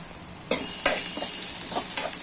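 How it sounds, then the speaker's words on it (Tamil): Onions sautéing in a pan in a home kitchen, a soft steady sizzle with several sharp scraping and clinking strokes of a spoon stirring against the pan. "பாருங்க, வெங்காயம் நல்லா வதங்கிருச்சு"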